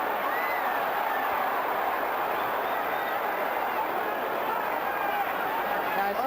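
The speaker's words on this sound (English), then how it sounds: "Listen to the crowd now, Barry. It's fascinating how they change all of a sudden." A boxing arena crowd at the Larry Holmes vs Mike Tyson fight gives off a steady, dense roar that fills the whole stretch at an even level, with no single voice standing out.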